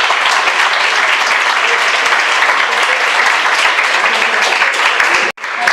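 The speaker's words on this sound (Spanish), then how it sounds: "Un aplauso para él también, por favor." Loud, sustained applause from an audience at a university lecture event, a dense, steady roar of many hands that cuts off sharply near the end before resuming briefly.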